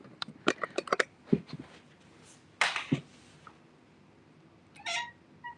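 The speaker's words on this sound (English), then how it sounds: "Look at this little kitty." A pet cat at home gives a few short, close meows and small squeaks, separated by quiet pauses, with no talking.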